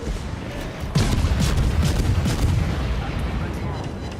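Cruiser HMS Edinburgh fires its guns in the naval game World of Warships, a sudden heavy boom followed by a dense rolling rumble of gunfire that fades out gradually.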